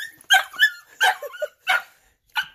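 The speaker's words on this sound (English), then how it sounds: "She's like, why did you bark at me?" A dog lets out a string of short, close barks and yips mixed with whimpers, about six separate bursts with brief pauses between them.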